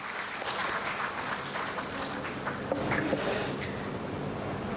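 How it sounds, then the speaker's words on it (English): Applause from a conference audience welcoming university dignitaries, a dense, steady wash of clapping that stays fairly soft and even from start to finish. "A big round of applause to all our dignitaries"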